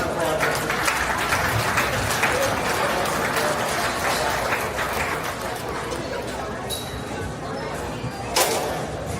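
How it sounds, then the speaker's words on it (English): Audience applause at a county fair beef show, broad clapping from a crowd mixed with chatter and some background bustle, with a sharp knock near the end. "Please give her a huge round of applause"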